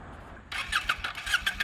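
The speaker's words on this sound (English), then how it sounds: "So she's going to start up the bike instead." A 2019 Kawasaki W800 Cafe motorcycle with its stock factory exhaust starts up and catches into an uneven, revving mid-pitched engine note after a brief quiet moment.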